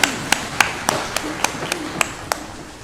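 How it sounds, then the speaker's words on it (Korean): Slow, evenly spaced sharp claps ring out about ten times in a church during a Sunday morning service, like a single person or small group clapping in rhythm over a faint room hum. "영광의 박수 함께 올려드리겠습니다."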